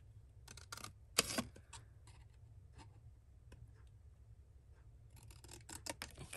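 Scissors snipping through a paper journaling card, a few quick close cuts at the start and end with quiet pauses between, faint and without talking.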